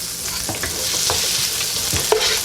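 Green beans with garlic being stirred in a frying pan, a steady loud sizzle broken by repeated scraping pushes of the utensil, close up and without talking.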